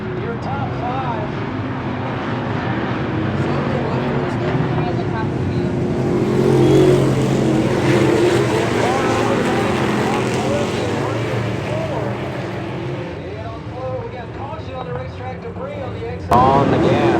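Race cars at Brownstown Speedway late in a race, engines roaring and revving continuously from a mix of near and far cars, with a track announcer talking over the noise.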